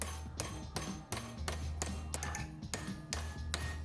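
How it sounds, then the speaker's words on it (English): Sharp metallic hammer strikes on a wire hook being bent, a steady series of about a dozen ringing smacks at a brisk, fairly even pace over a low background hum. "by smacking it with a hammer."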